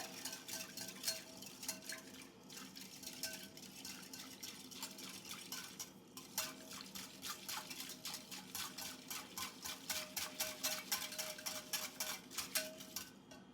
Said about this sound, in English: I'm going to lightly whisk this in.